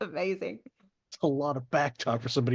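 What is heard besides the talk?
No everyday noises stand out.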